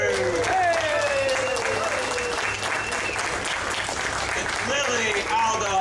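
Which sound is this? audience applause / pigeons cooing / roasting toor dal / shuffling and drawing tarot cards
audience applause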